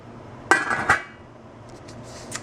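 A lid goes onto a pot of split pea lentil soup with a sharp metallic clank and a second rattling knock close together, then faint clinks as it settles, with no talking.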